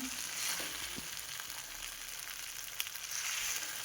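Potato and pointed gourd curry simmering with spices in a pan gives a steady close sizzle and frying hiss, with a few faint stirring clicks and no talking.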